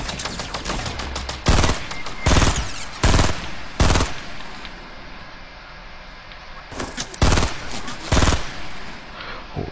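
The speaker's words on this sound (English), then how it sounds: "None of those shots hit, bro." Bursts of automatic gunfire in a Fortnite Battle Royale match, with several loud volleys of rapid shots separated by pauses and quieter stretches of game ambience.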